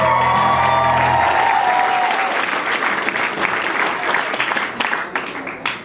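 Loud, dense applause and cheering from a live concert crowd at The Hop in Spokane, a sustained wash of clapping with a few whoops, opening over fading instrument tones and tapering slightly toward the end.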